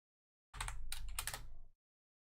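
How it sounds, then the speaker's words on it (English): A short burst of typing on a computer keyboard, a quick cluster of close, crisp key clicks lasting about a second, alone against silence. "You might hear some typing in the background while we wait for that counter to clock down"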